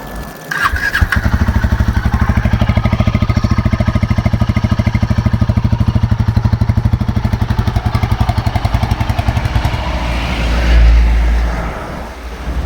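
Royal Enfield Himalayan 450 motorcycle riding downhill, its single-cylinder engine thumping steadily and loudly up close with a fast even pulse, easing off near the end as throttle response lags.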